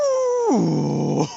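A dog in a car crash video being played back gives a sustained vocal sound that starts as a higher whine and drops into a lower, rough, growling tone, loud and close, with no talk over it.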